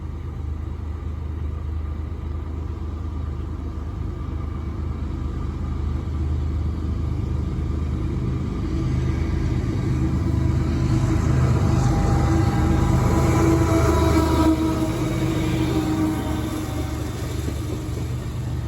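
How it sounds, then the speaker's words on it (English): CSX M368, a freight train running from Chicago to Selkirk, passes through Berea, Ohio, as a steady low rumble that swells gradually over nearly twenty seconds. "In came CSX M368, making its daily occurrence run out of Chicago"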